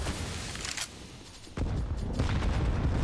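Gunfire in a Counter-Strike match on the Cobblestone map, dense bursts of loud shots with a lull in the middle before the firing picks up again close and heavy, with game noise underneath.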